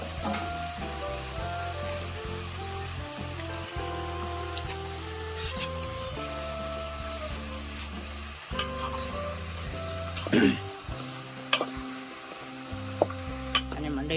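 Mutton coated in ginger-garlic paste fries over a wood-fired chulha in a Konkan kitchen, a steady close sizzle with occasional stirring scrapes and pops, no talking.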